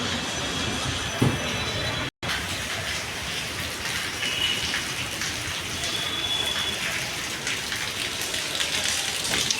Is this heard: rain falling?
yes